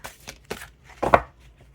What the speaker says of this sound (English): This one's going to be a bit to shuffle because it's so big.